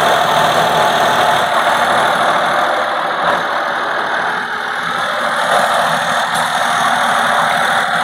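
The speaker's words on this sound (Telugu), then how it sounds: "వెహికల్ యొక్క ఇంజన్ చూపిస్తాను చూడండి." A 2013 Maruti Suzuki WagonR LXI with CNG and petrol fuel idles with its bonnet open, giving a steady, loud, close engine hum that runs throughout without talk.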